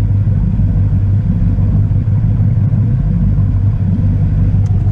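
A boat engine fitted with Hardin mufflers idles on the water, giving a steady, loud, low rumble that holds an even pitch without revving.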